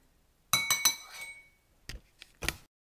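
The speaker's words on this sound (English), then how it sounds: "grab a spoon and just give it a bit of a mix, get all that syrup" A spoon stirs popcorn coated in agave nectar in a bowl, giving a quick run of bright clinks against the bowl followed by two more separate taps, close and clear with no talking.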